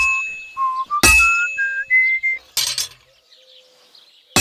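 In the video game Kingdom Come Deliverance 2, a hammer strikes hot metal on a forge anvil. Two sharp ringing clangs stand out, set among whistle-like tones and quiet gaps.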